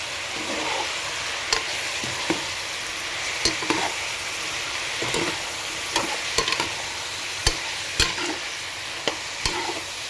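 Mushroom biryani mixture with rock salt and turmeric stirred in a sizzling pot, steady frying hiss punctuated by regular clinks and scrapes of the spoon against the vessel, close and clear.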